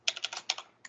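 Rapid keystrokes on a computer keyboard, a close burst of about eight crisp clicks, then a short pause and two more taps, with no voice.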